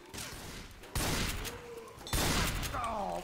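Bursts of gunfire from a zombie shooter video game, two or three loud volleys of rapid shots a second or so apart over a quieter background.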